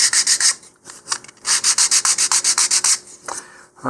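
Vigorous back-and-forth sanding of wooden model rocket fins at close range, gritty rhythmic strokes with a short break partway through, no voices.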